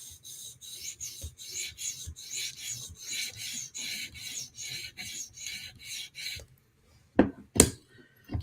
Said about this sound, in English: So now I'm going to keep on doing a couple 400 grit passes to downsize the burr with this stump.